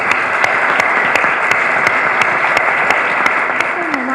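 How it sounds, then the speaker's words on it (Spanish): A studio audience applauds a guest, a steady, sustained wash of clapping with a rhythmic accent running through it. "Un aplauso para el valiente."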